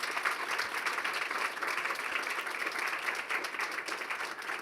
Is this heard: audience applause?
yes